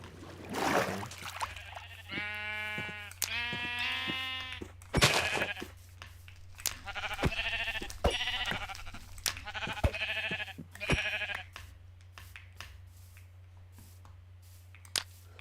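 Sheep in a farming video game bleat in a run of distinct, wavering calls, several in quick succession with short gaps between them, mixed with faint clicks.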